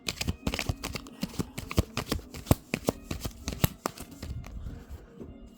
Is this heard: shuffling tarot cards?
yes